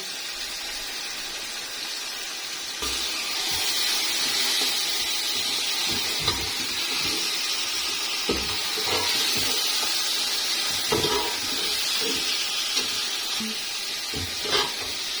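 Raw chicken hits a hot pan of tomato masala, and a loud steady sizzle and steamy hiss swells up and continues, broken by occasional clatters of pieces and spoon close by.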